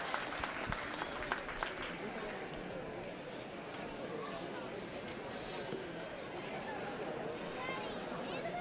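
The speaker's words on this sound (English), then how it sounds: "Let's go ahead and give Class 10 a round of applause." At a youth livestock show, a crowd claps for a market goat class leaving the ring, a sharp burst at the start settling into quieter, steady applause under faint chatter and arena noise.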